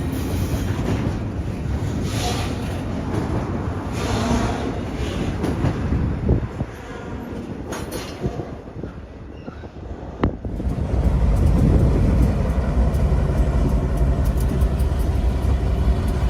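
A yard job train moves through the rail yard at Howell in Evansville, Indiana, its cars rumbling steadily with a faint wheel squeal early on, then a heavier, louder roll of wheels over the rails as it passes close by.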